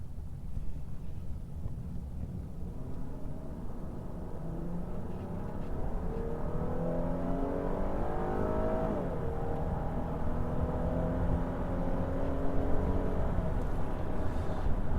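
A Jeep Cherokee accelerating hard on a freeway to about 80 mph, its engine note rising steadily under constant road and wind rumble, heard from inside the cabin.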